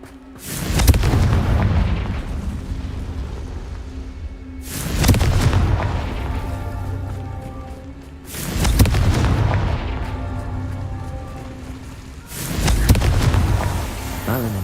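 Four heavy booming blasts from the Confringo explosion spell in Hogwarts Legacy land at roughly four-second intervals, each deep, loud and close with a rumbling tail.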